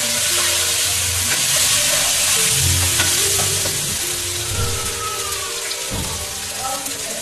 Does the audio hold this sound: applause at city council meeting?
no